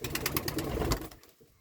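A brief flurry of wing flaps as pigeons take off from a new loft, fading quickly into quiet.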